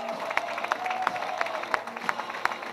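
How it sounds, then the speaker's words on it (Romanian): A crowd applauds the first-place winners of the Cupa Porcului 2019 final, edition 10, at a local award ceremony. Steady clapping runs throughout with sharp individual claps standing out, moderately close. "Aplauze pentru Pepi Dolce Vita!"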